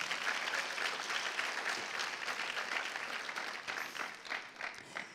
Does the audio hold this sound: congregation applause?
yes